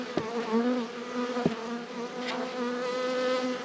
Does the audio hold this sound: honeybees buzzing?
yes